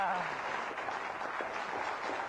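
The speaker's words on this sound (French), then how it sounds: "Vous avez entendu ces applaudissements." Studio audience applauding on a 1993 French-language quiz show taped with a secondary school team: dense, steady clapping that holds evenly throughout, with a voice briefly audible at the start.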